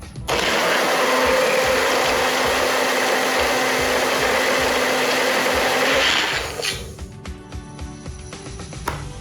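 A marinade for pompano fish, Indonesian-style, is blitzed in a blender: a loud, steady whirring roar for about six seconds, then the motor winds down into light clatter.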